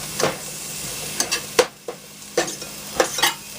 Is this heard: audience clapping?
no